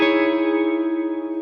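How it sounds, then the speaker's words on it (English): A merged guitar chord in a minor 9 voicing rings out as one sustained strum with effects-laden tone, holding steady and slowly decaying with slight wavering shimmer. "if I merge both of these chords together, it sounds like this."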